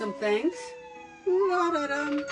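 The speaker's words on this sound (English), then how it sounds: "that was a siren going by" A siren passes by outdoors, its wavering wail audible in the background while someone talks indoors over it.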